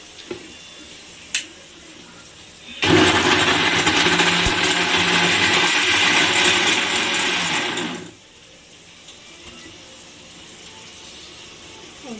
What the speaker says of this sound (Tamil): மட்டனை போட்டு மறுபடியும் இதை மிக்சியில் அரைச்சிக்கலாம்.